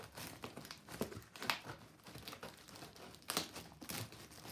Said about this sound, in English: for now, I'm choosing a good old-fashioned pair of scissors.